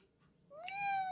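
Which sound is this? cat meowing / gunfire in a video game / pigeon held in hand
cat meowing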